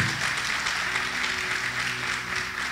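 A church congregation applauds during a Sunday morning service, a dense, sustained patter of many hands clapping throughout, moderately loud, with a faint low hum underneath.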